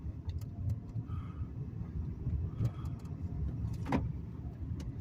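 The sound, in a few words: manual transmission car accelerating and shifting into second gear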